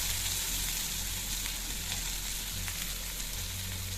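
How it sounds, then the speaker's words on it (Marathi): Onion frying in a spoonful of hot oil in a kadhai gives a steady, even sizzle that stays fairly quiet throughout, with a low hum underneath and no talking. "आणि कांदा घालूया आपण"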